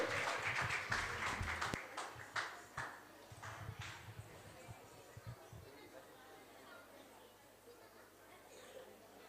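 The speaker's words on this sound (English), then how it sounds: "Let's give a big clap for both of them for their wonderful performance." Audience at a Sunday school annual day celebration claps for a dance performance, a burst of applause and cheering loudest at the start, then thinning into scattered claps and murmuring chatter over about nine seconds.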